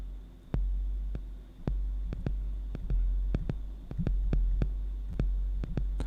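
Snare sounds are triggered from the pads of an IK Multimedia UNO Drum at varying velocity: about fifteen short, sharp hits in an uneven rhythm, some softer and some harder, over a low steady hum.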